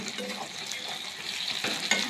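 Garlic paste, tomato and green chillies fry in hot oil for chicken kosa, a close, steady sizzle with scraping and clinking as a spoon stirs the pan, and no voices.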